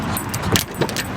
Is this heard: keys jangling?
yes